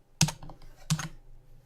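Two distinct keystrokes tapped on a computer keyboard, sharp clicks roughly 0.7 seconds apart, close and clear against a quiet background with no talking.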